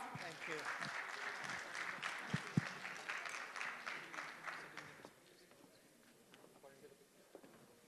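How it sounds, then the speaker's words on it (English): Conference audience applauding at a cyber resilience business event: dense, steady clapping that fills the room for about five seconds, then thins into scattered claps under faint talk. "Please give them a big round of applause."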